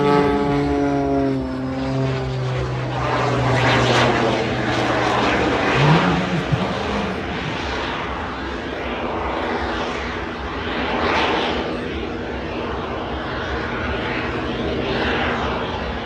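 An aerobatic display aircraft with jet turbines at an air show, a loud, sustained engine roar with rising and falling pitch as it climbs and turns overhead, continuous and unbroken with no talk.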